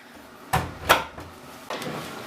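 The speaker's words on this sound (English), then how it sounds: "Shut the door." A washing machine door is shut while a quilt is loaded for washing, giving two sharp, close thumps about half a second apart, followed by a softer clunk.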